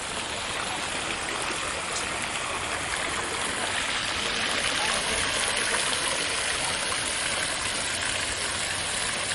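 Garden water features at Duke Gardens in Durham, NC, a steady broadband rush of flowing, splashing water that holds constant throughout, close and continuous with no voices.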